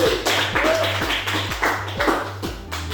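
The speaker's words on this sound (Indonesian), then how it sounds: "Kasih tepuk tangan." A classroom of students claps in short, rhythmic bursts after a group presents its view, loud and close, with a steady low hum underneath.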